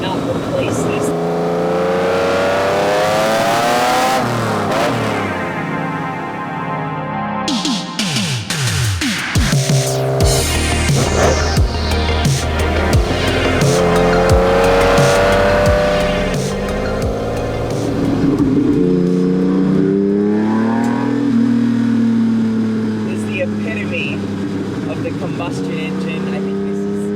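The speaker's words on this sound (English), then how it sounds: "when you punch it, you almost feel the fuel go through the engine" A downdraft-carbureted V12 in a Lamborghini Countach is floored and roars up through the gears. The loud, raspy howl rises and falls with each shift and runs close up for most of the stretch, with no talk over it.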